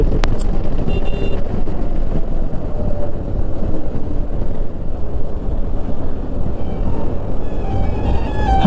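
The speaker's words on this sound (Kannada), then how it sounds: "traffic traffic traffic" Loud, continuous highway traffic rumble on a Bangalore highway, heard from a moving motorbike, with dense low roar and buffeting wind and no talk.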